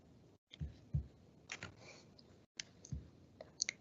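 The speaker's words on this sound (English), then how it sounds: "And then I'm going to click save." A few sharp mouse clicks on a computer while saving a patient record, short and dry, spaced across a quiet stretch with small handling noises between them.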